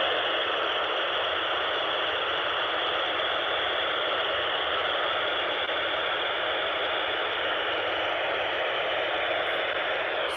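Steady, loud hiss of static from an FM amateur radio receiver tuned to the SO-50 satellite, low on the horizon, a constant band of noise with no clear voice breaking through.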